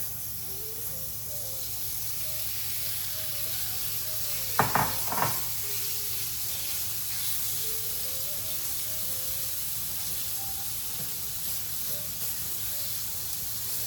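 Food sizzles steadily in a hot cast iron pan used like a hibachi grill, a constant close hiss with a brief louder clatter partway through and faint background music, no talking.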